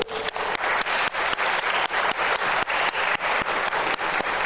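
Applause for teachers asked to stand during a parliamentary inquiry session on animal mistreatment, steady clapping across the room with regular dips in loudness, no talking.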